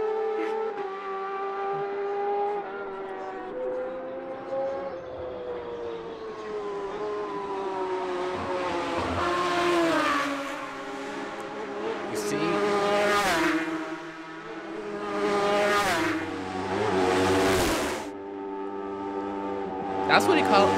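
Racing motorcycles at the Isle of Man TT road races blast past one after another, engines rising and falling in pitch as they scream by close and loud, with overlapping passes over about twenty seconds.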